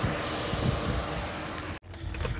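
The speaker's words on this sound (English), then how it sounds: "the fans are on and they are on high speed" Car radiator cooling fans run at high speed with the AC on, a steady broadband whoosh that holds throughout, briefly cut by a dropout near the end.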